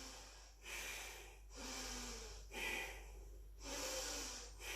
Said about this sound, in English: 3 more breaths. Breathing deeply.